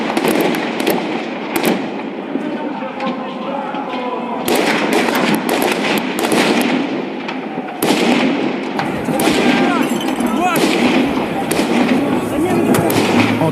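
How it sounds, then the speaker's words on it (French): Live gunfire at protesters on Maidan in Kyiv, heard as repeated sharp cracks and bursts in several clusters amid crowd noise and voices, loud and echoing across the open square. "Ils tirent à balles réelles sur les manifestants."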